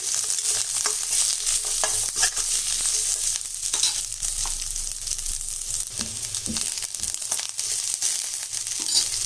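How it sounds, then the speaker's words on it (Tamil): About ten garlic cloves and curry leaves sauté in oil for a brinjal gravy, a steady close sizzle broken by irregular scraping and stirring clatter throughout, with no talking. "ஒரு 10 பல்லு பூண்டு, கருவேப்பிலை கொஞ்சம், இதை கொஞ்சம் நல்லா வதக்கிக்கலாம்."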